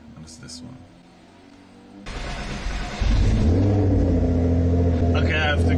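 Sports car engine cold start: a quiet lead-in with brief voices, then the starter catches and the engine flares into a loud, close rev before settling into a steady, high, rumbling idle.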